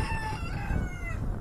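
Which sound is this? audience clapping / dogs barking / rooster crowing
rooster crowing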